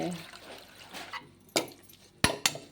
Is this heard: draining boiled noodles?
yes